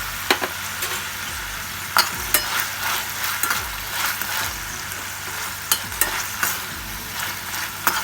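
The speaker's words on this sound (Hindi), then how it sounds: "अब हम इसमें हमारे बीन्स डाल देंगे।" French beans fry with garlic in a pan, a steady close sizzle with repeated sharp clinks and scrapes of a utensil stirring at a regular pace.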